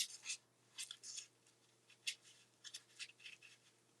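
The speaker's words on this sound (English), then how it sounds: "And then right in there, I'm going to cut." Scissors cutting paper or cardstock for a craft project: a series of short, crisp snips in an irregular rhythm, close and quiet, with no talking.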